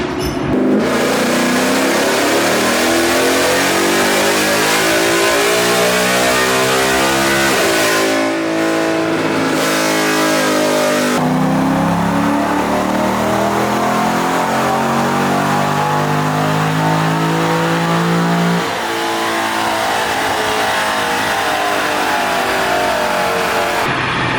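A car revs hard on a dyno at a TX2K drag event, loud, close engine pulls rising and falling through two long sustained runs with a short drop between them.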